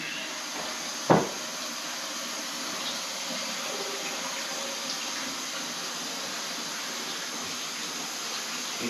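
Cold water running steadily into a bowl for rinsing cooked pickled fish, a continuous close hiss and splash after one brief knock, with no talking.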